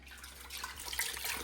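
Water running from a kitchen tap, a soft, faint hiss and splash that grows slightly louder, alone and with no voices.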